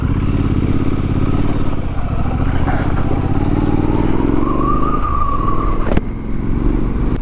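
Motorcycle cruising on the road, heard from the rider's position as a continuous loud engine drone mixed with wind, with a slight pitch rise partway through and a sharp knock near the end.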